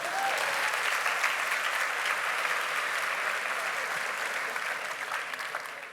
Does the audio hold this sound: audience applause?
yes